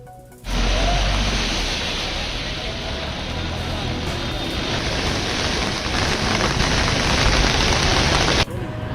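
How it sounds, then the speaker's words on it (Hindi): Heavy monsoon rain pours over Mumbai at night, a dense, steady hiss of downpour that starts abruptly and stays loud and broadband, with no voices. "मुंबई में एक दिन पहले से लगातार बारिश हो रही है और देर रात काफी तेज बारिश हुई"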